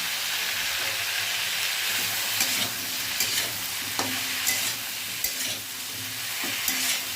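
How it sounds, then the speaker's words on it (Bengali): Vegetables sizzle steadily in a hot pan with intermittent scraping and stirring clatter, a continuous frying hiss throughout. "হালকা একটুখানি আর কি নাড়াচাড়া ভাজা ভাজা করে"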